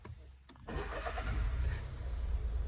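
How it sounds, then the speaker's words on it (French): A Skoda Fabia car engine cranks and starts, a brief click followed by a steady, close engine rumble that swells and holds at idle, with no voices over it. "il faut mettre le moteur en route."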